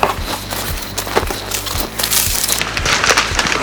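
A big cardboard box holding Bilstein B14 suspension for a VW Polo 6R/6C is cut and torn open, with loud, close, rough crunching and scraping strokes in an irregular rhythm and no talk.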